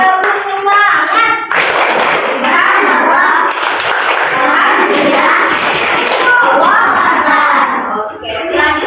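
Schoolchildren in a classroom perform a rhythmic clapping chant, loud patterned hand claps and thumps mixed with shouted group voices, sustained for several seconds before a brief pause.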